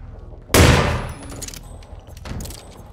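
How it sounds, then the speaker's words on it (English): A single loud gunshot in the video game Hitman 2 cracks out near the start and tails off into a decaying echo, followed by fainter game noise and a second, softer burst. "firing a gun!"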